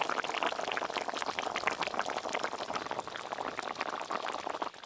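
Hilsa fish curry with hilsa roe bubbling at a steady boil in a pot, a continuous dense simmering hiss and fine popping that stays even throughout.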